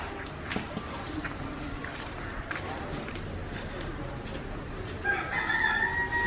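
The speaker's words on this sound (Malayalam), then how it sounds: "കോഴികളുടെ കൂടുതലാണ്" Chickens on a home compound cluck and scratch faintly in the background, then a rooster lets out a clear, fairly close crow near the end.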